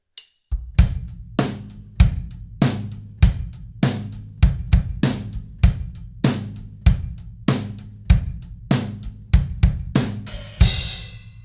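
A drum kit plays a common two-measure phrase as steady, evenly spaced hits with ringing tom or kick tones and cymbal accents, loud and close, ending in a cymbal wash.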